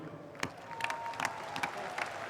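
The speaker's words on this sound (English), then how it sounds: "we're going to clap for you now" Rugby players from the Sunwolves clap back at their home fans in a stadium after a Super Rugby match, a short, fairly faint burst of scattered applause.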